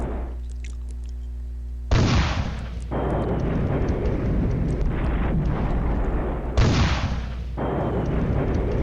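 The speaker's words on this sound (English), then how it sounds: "More artillery hits my mechanized infantry." Artillery fire slamming into mechanized infantry units in a real-time war strategy game, two heavy booming blasts with long rumbling roars, loud and close, over a low steady drone.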